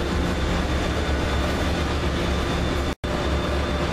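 Amtrak AEM7 electric locomotive train passing, a loud, dense roaring rush of wheels and wind that holds steady throughout, with a momentary cut near the end.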